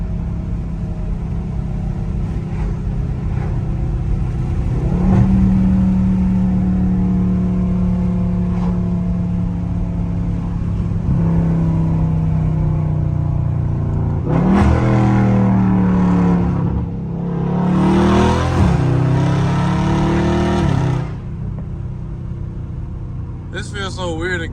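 A Dodge Charger Scat Pack's engine rumbles in traffic, rising into several loud revving bursts as it downshifts, with someone talking over much of it.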